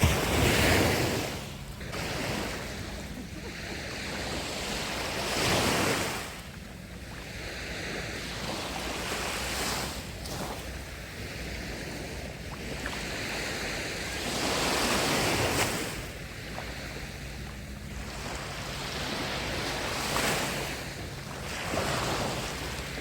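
Sea waves roll onto the shore at Langeron beach in Odesa, recurring surges every few seconds with heavy wind buffeting the microphone, and no talk.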